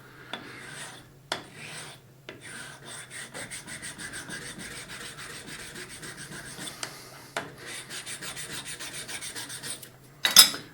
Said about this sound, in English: Now just take the sanding block